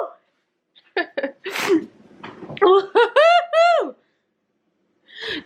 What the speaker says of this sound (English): I'm just sneezing so much today as well